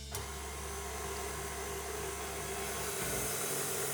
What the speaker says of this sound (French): Je commence par verser les blancs dans la cuve du batteur avec le fouet